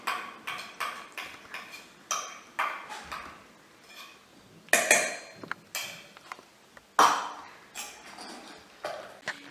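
Utensil mixing melted butter into sugar and egg yolk in a bowl: a steady run of sharp clinks and scrapes against the bowl, close and fairly loud, with short pauses between strokes and no talking.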